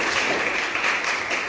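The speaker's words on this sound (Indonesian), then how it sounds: "Silakan tepuk tangan dulu." Class applauding during a school lesson, a short, dense burst of clapping that holds steady and fairly loud, with no talking over it.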